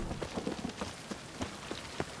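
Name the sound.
rain in a video game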